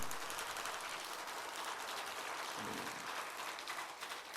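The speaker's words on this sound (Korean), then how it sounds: "그 예수님의 영광의 박수 올립니다" Sunday-morning church congregation applauding in worship, a dense, steady wash of clapping that fills the room evenly for the whole stretch with no voices breaking through.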